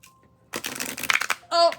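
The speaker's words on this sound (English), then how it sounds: "now let's see how it shuffles." Cards of a new, stiff oracle deck riffle and flutter in a short burst of shuffling, close and crisp, followed by a brief voiced sound.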